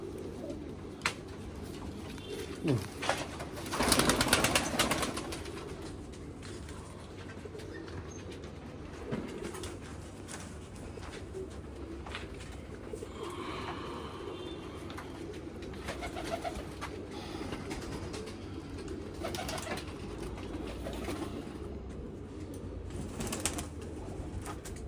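Jamuni pigeons coo softly in a quiet loft, low repeated calls scattered across the scene, with a burst of wing flapping early on and occasional faint clatter.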